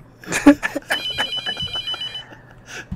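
A telephone rings in the horror game The Mortuary Assistant, a loud repeated bell-like electronic ring pulsing over a few seconds.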